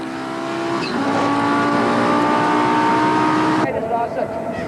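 A Rothmans Audi saloon race car in a 1993 modified saloon race at Goldfields brakes hard and changes down through the gears, its engine whine loud and close from onboard, with commentary over it.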